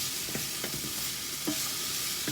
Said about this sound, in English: really good stir, because really and truly it's stir fry you're doing